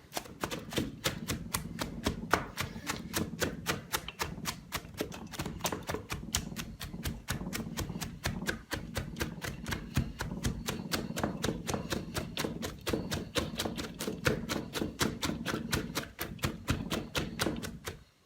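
Shredded cabbage is pounded down in a bowl to make sauerkraut, a steady, fast run of dull, even thumps repeating for many seconds at close range, with no talking.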